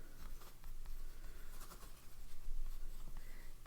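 Nib of a medium-point pink Aurora DuoCart fountain pen inked with Aurora Black scratching across Cosmo paper, a close, continuous soft scritch with brief stroke pauses and no voices.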